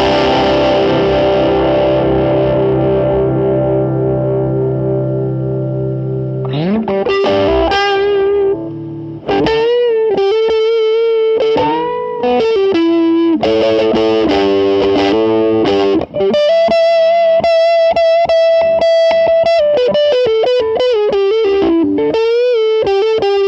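An electric guitar with both pickups runs through an OLC Orange Peel pedal at maximum gain. A long ringing chord decays first, then loud, saturated single-note lines and bends follow, with brief gaps between phrases.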